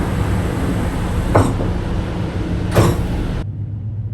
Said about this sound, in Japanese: 中村駅を15時10分に発車する特急足摺12号高知行きです。